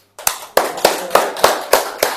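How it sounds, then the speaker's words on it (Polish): Applause at a Lublin Toastmasters club meeting comes as an evenly paced run of about seven crisp, close claps, steady and rhythmic, with no talking over it. "wielkie brawa dla tych osób"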